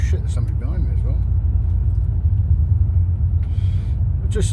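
A Ford car drives along a main road with a steady low engine rumble and road noise throughout, a few faint higher clicks and rustles on top, close and continuous.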